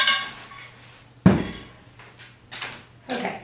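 Metal canner and pots knock and rattle inside a kitchen cupboard, one sharp clatter followed by a few lighter bumps and clinks, fairly close with background hum.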